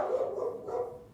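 A pet dog barks nearby in a garage during work on a 1970 Ford F250 truck, a short burst of yappy barks with no one talking.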